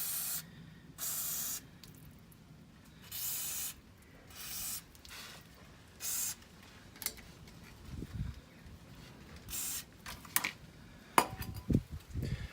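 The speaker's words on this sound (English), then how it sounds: "So we'll just give that a quick liberal spray over to loosen up anything we've got on here." WD-40 Specialist Fast Release Penetrant sprayed onto a car's exhaust centre pipe, several short hissing aerosol bursts with pauses between them, followed by faint metallic clicks and taps near the end.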